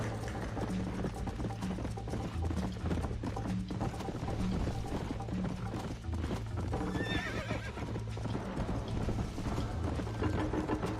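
Horse hooves clip-clop steadily in the Red Dead Redemption video game, a continuous close galloping rhythm with a whinny and faint mechanical clicking, no talk.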